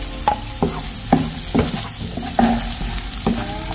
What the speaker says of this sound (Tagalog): Ngayon po ay maggisa na tayo.